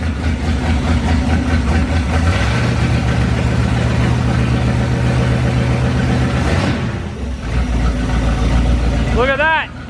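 A Mopar 440 big block engine idles loud and close with a deep, lumpy rumble that shifts pitch partway through, and a voice briefly talks over it near the end.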